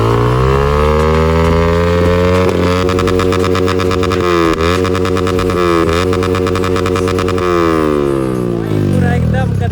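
A motorcycle fitted with an aftermarket exhaust revs loudly and steadily, rising in pitch, holding a sustained roar, then dipping and climbing again before settling, with no break in the engine noise.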